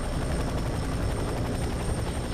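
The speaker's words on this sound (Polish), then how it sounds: "Wow, wow, wow, śmigłowiec nadlatuje." A helicopter approaches in the video game F.E.A.R. 3, a loud, steady rotor and engine roar filling the whole stretch without voices.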